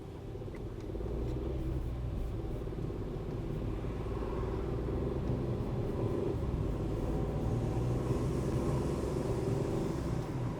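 A car pulls away from green traffic lights on a Dun Laoghaire driving test route once the handbrake is released. A steady low engine and road rumble is heard from inside the cabin, with no talk.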